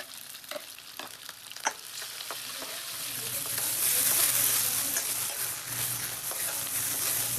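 Food stir-frying in a pan, close by: scattered scrapes and clinks at first, then a loud, steady sizzle that swells and holds.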